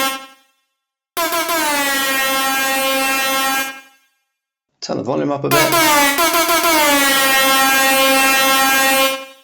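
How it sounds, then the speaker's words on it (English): A synthesized air horn effect for reggae and dub drum and bass blares in long, loud, sustained bursts with a short break between them. A voice speaks briefly in the gap. "So that's how you get to that classic kind of air horn sound."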